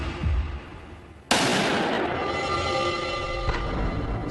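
A single sharp gunshot cracks out suddenly and loudly, followed by a lingering noisy wash, in the setting of a killing where a gun was held to the victim's head.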